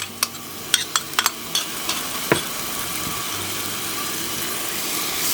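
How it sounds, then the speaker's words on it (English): Chili, shallot and garlic fry in a hot pan, a close steady sizzle with several sharp clinks and scrapes from stirring early on, then a settled frying hiss. "That's the shallot and the garlic cooking off."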